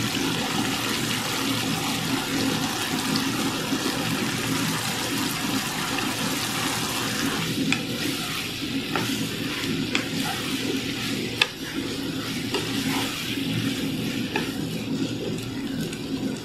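Beef tripe fries in oil with spices in a pot, giving a loud, steady bubbling and sizzling that runs throughout at close range, with a few faint knocks and no talking.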